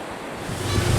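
Ocean surf surges in a roaring, broadband wash, loud and close, mixed with gusty wind buffeting the microphone and swelling toward the end, with no voices.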